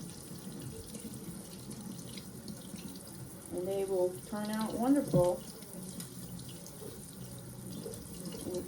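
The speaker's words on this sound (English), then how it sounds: "you just want to run them under some cold water and crack away" Cold tap water runs into a sink over pickled eggs being rinsed before cracking, a steady spattering stream that swells louder midway, with someone talking over it.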